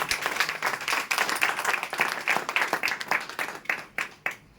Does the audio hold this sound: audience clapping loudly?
yes